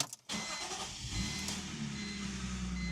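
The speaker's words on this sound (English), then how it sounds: "that's a real cold start" A Toyota GR86's engine cranks and catches on a cold start, then settles into a steady, slightly rough idle close by, with no voices.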